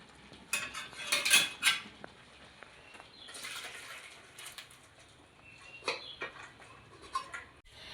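Pot lid and pot clatter and knock in a few sharp bursts while boiled elephant foot yam stalks are drained, with quieter scraping and handling between the louder metallic hits.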